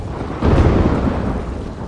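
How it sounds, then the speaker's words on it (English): Thunder rumbles through a night lightning storm over a caravan in the Mortal Kombat 1 video game, a heavy low roll swelling after a quieter start and lingering loud and close, with a rain-like hiss beneath. "Lightning flashes over Shang Tsung's caravan at night"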